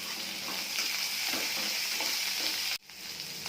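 Onion, ginger and green chilli pieces fry in hot oil with a loud, continuous sizzle and faint stirring scrapes, then the sound cuts out briefly and resumes more quietly.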